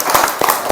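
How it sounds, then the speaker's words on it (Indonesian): A classroom of students claps for a classmate, giving brief, close, sharp applause with a few distinct clap bursts and light crowd murmur. "Beri aplaus dulu untuk teman kita."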